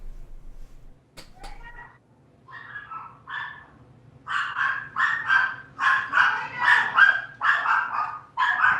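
Several dogs bark in a rapid, agitated burst that grows louder and more continuous toward the end, sounding like a scuffle between dogs, heard close by in the background of a gaming chat.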